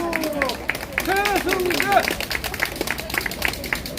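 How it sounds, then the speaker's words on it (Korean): An audience at a public gathering bursts into applause for a lawmaker, with scattered clapping mixed with crowd voices, cheers and high calls over a busy, lively room. "최승재 의원님께 다시 한번 박수 부탁드립니다."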